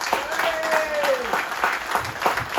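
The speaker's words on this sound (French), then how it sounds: "Nous avons applaudi." Crowd applause at a political list presentation event in Saint-Louis, steady dense clapping with a voice or tone rising over it partway through, fairly loud and continuous.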